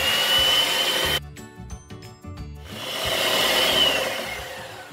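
An electric hand beater whirs steadily as it mixes a coffee-cocoa cake batter in a bowl. The motor whine drops out briefly partway through, then picks back up at full speed.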